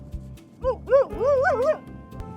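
A Greenland Husky in Greenland gives a few close, high whimpering yips and a wavering howl-like whine, over soft background thumps.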